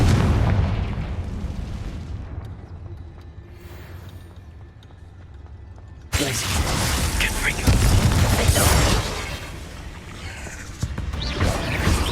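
The Confringo fire spell from the video game Hogwarts Legacy going off, a loud booming blast that cuts in suddenly over a rumbling cave ambience and then a sustained roar of burning and crashing debris.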